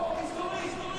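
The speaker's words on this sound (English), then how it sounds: "the crowd are getting warmed up. You can hear them in the background as the circuit announcer here whips them into a frenzy." Crowd at the Le Mans circuit before a MotoGP sprint race, a steady broad murmur of many spectators filling the background, with a public-address announcer's voice over it.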